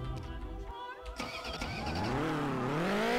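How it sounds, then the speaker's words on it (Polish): A Honda car engine in the Rigs of Rods driving game cranks and fires, then settles into a rising, steady idle hum over about three seconds, heard close and fairly loud. "bez problemu mogę wrzucić teraz wsteczny, zapalić silnik"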